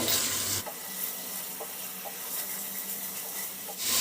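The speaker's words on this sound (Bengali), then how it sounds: "এবার এইসব মশলাগুলো অল্প ভেজে নেব" Spices sizzle in hot oil in a pan for a prawn curry, with a sugar pinch added for colour; a steady, close hiss with soft stirring scrapes, louder at the start and end.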